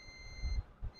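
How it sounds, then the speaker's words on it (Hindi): A multimeter in continuity mode beeps steadily while its probes test the ground on a Samsung A10 phone circuit board near an NTC resistor. The beep is one close, sustained high tone that cuts off briefly, with faint handling thumps underneath. "बीप दे रहा है ना"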